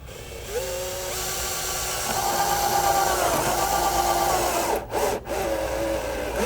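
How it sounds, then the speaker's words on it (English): Power driver driving a tapping screw through metal roof flashing on a chimney, a steady whirring grind lasting several seconds that shifts pitch as the screw bites, then briefly cuts out twice. "With our tapping screws, we'll go ahead and just drive a screw."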